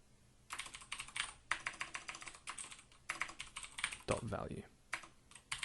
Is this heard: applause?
no